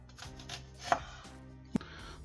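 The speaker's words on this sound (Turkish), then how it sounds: "Yani o şöyle halka halka kesiyorum." A red onion is sliced into rings with a knife on a cutting board for a tavern-style meze, giving two distinct, sharp chopping hits up close over a low background hum, with no talking.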